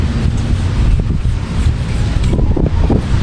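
Strong wind gusts buffet the microphone outdoors in a rural Philippine setting, a steady low roar with rumbling bursts throughout and no talk.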